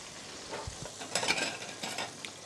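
Monkfish is lifted from a very hot skillet as it sizzles softly, with a few scraping clinks of a utensil against the pan in quick, irregular bursts.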